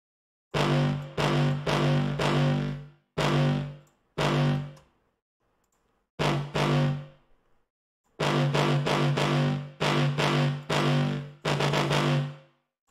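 Heavily distorted dubstep drop synth drenched in reverb, played in chopped rhythmic bursts with short gaps of silence between phrases, loud and alone without talk.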